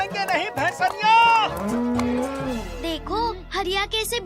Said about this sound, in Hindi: जरा इस भैंसनिया को तो बांध दें